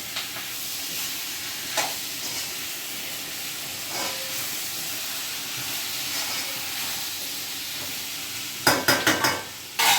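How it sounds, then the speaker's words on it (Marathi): Onion and tomato sautéing briefly in a pan, with a steady soft sizzle and a few spatula stirs, then a quick cluster of louder scraping strokes near the end; no voices. "परतवून घ्यायचे जास्त नाही करायचे कारण आपल्याला हे लगेच मिक्सरला लावायचे"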